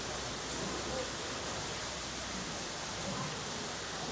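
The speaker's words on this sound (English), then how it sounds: "That's the waterfall we came to see" Waterfall in Takachiho Gorge, heard as a steady, even broadband roar of falling water that holds constant throughout without pauses or other sounds.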